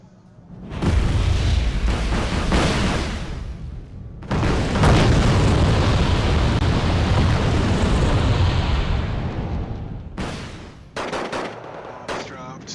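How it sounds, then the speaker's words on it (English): Bombs explode in the war game Wargame: Red Dragon as a loud, sustained rumble of blasts and rattling fire, two long roaring stretches broken by a brief gap, then sharp bursts near the end. "They're dropping bombs, doing what they can to hold off."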